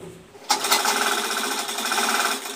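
A sewing machine starts up abruptly and runs steadily, a fast close buzzing whir while stitching a side pocket onto pajamas.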